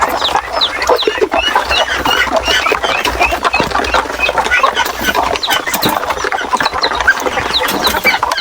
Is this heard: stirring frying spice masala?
no